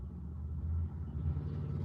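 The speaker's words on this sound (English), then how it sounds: "that's not no motorcycle. That was a car." A low rumbling car engine rises and fades as a vehicle passes at moderate distance, with no voices.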